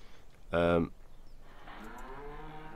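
A cow on a farm map in a farming game gives one loud, short moo, followed by a longer, quieter lowing moo further off, against a quiet ambient background.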